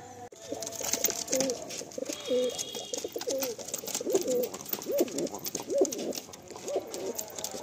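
Madrasi and Giribaj pigeons coo in repeated low throaty phrases, close by, over a constant background hiss with faint chirps.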